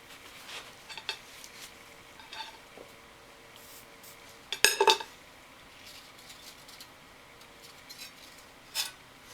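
A sheet of picture-frame glass is handled on a floor, giving faint scattered clinks and taps, with one louder rattling clatter in the middle and a lone tap near the end.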